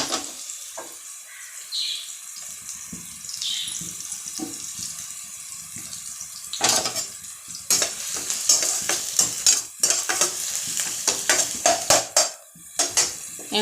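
Cauliflower and potatoes being stirred and sautéed in a pan for a sabji: soft oil sizzle runs underneath while a spoon scrapes and clatters in irregular bursts, the stirring growing busier and louder in the second half.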